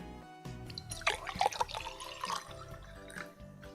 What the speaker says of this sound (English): Do you want to hear the sound of the water?